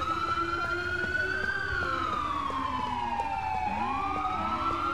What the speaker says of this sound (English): You still have his sirens on.